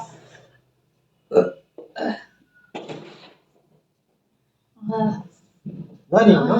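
A person burping after eating about ten gulab jamun in an eating challenge, giving a few separate short belches with quiet pauses between them, close and fairly loud.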